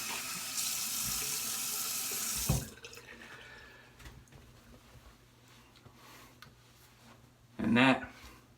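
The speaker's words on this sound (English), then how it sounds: "All right, I'm gonna rinse up here." Running tap water for rinsing after a shave pours steadily for a couple of seconds and then cuts off, followed by quieter handling noises and a short splash near the end.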